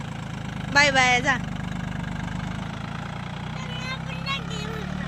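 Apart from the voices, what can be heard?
tractor engine idling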